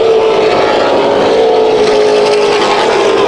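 Race car engine at Irwindale Speedway firing back up, a loud sustained droning roar with a steady pitch, close and continuous.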